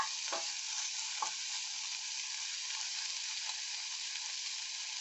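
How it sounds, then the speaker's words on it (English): Pork sizzles and fries steadily in a hot pan while being stirred, with a constant bright crackle and a couple of soft scrapes of the utensil against the pan, close and with no voices. "Once the pork starts to sizzle, you have to start stirring"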